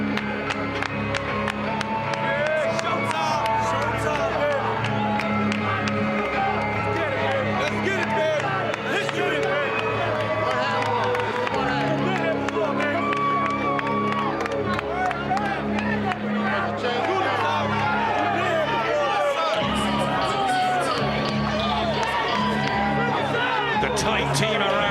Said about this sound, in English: Just listen to the reaction that Shane Mosley will get